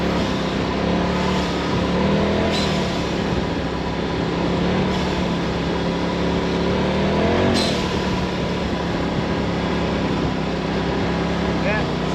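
A Polaris RZR Turbo side-by-side with a slight jet tune runs steadily with a continuous loud engine drone and rumble, and a few sharp transient bangs break in partway through.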